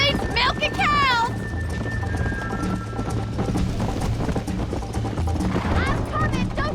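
Horse hooves galloping in the Red Dead Redemption video game, a rhythmic clip-clop running steadily underneath, with characters talking over it near the start and again toward the end.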